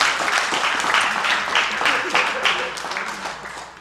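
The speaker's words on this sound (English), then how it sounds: "Give me another hand clap for this heart" A church congregation claps hands in a fairly rhythmic, steady burst that sounds near and full, with voices underneath.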